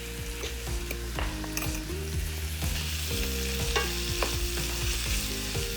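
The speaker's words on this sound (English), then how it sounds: "We're gonna add 3/4 of a cup of sun-dried tomatoes." Sun-dried tomatoes stirred into a hot pan of salmon and artichokes, a steady close sizzle and frying hiss with clinks and scrapes of a utensil against the pan throughout, no talking.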